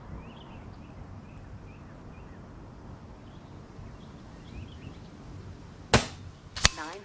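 Impact MKII air rifle firing 43.5 grain NSA slugs outdoors, two sharp, loud cracks about a second apart near the end. Faint wind and distant birds fill the quiet lead-up.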